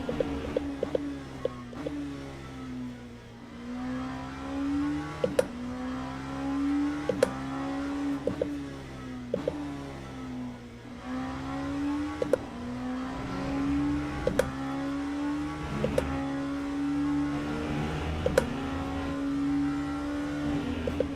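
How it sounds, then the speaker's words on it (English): A race car engine in the Le Mans Ultimate racing game revs repeatedly, rising tone sweeps climbing through the gears and dropping back at each upshift, with sharp clicks between shifts in a steady, loud, continuous run. "This car just sounds so good, though."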